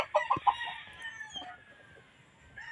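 A brood stag rooster gives a close, moderately loud crow with a few sharp opening calls followed by a drawn-out trailing note, then quiet.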